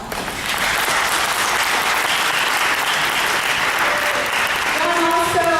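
Sustained, loud applause from an audience at a community meeting honoring council efforts, steady dense clapping throughout with a few tonal voice-like traces near the end.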